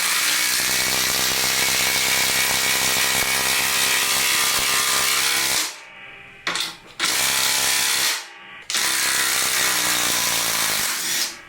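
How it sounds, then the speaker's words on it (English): Ridgid 18V sub-compact brushless impact driver running hard with a socket adapter, a loud continuous hammering whir that stops briefly twice before resuming, close up. "It's a nice little impact driver. Really powerful little guy."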